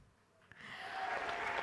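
Applause at an awards ceremony for a speaker named Garima, rising from near quiet into a steady wash of clapping from a crowd after a single early clap.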